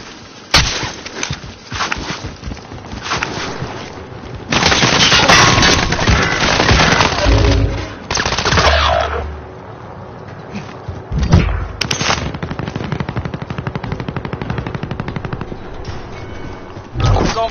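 Gunfire from a PS4 shooter video game comes in loud, dense bursts of rapid shots and impacts, broken by short pauses and a heavy blast, with faint game voices in the background.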